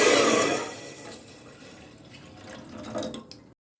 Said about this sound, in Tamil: இப்போ இதில் 1 டம்ளர் அளவுக்கு நான் தண்ணி ஊற்றிக்கிறேங்க.